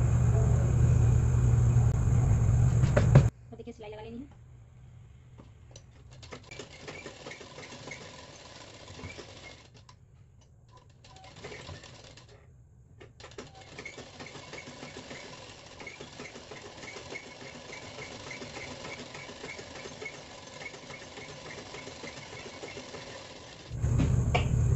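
A sewing machine stitches a sleeve seam in cloth, loud and close in bursts at the start and end, with a quieter, steady mechanical whirr and rumble running through the middle.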